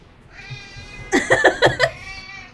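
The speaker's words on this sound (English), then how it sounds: "Alexa, cat noises. Here's cat noises." Recorded cat meows played from a smart speaker: a long whiny meow followed by a rapid burst of five or so short, loud chirping mews, close and clear with no talking.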